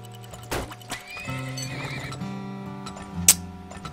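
Horses in the oil-drilling video game Turmoil, with a loud whinny and neighing over light clip-clopping hooves, tonal game music tones underneath and a sharp bright click near the end.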